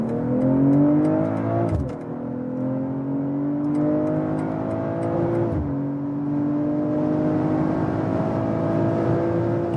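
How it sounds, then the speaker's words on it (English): A BMW M340i in Sport Plus accelerates hard on the German Autobahn, its engine note climbing steadily through the gears with two brief dips at the upshifts, loud and close from inside the cabin. "we'll get on to the German Autobahn for the first acceleration"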